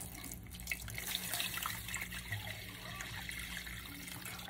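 Water poured into flour and fat for Southern biscuit dough, a steady close splashing, running flow lasting several seconds in a kitchen.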